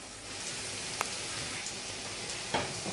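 Potato pancakes frying in fat in a pan make a faint, steady sizzle with a few small pops and crackles, heard close and without talk.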